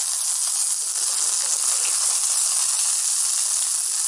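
Curry leaves crackle and hiss in hot oil, a steady loud broadband sizzle that holds evenly throughout with no talking.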